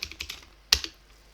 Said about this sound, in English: So I'm gonna type .NET restore and then .NET build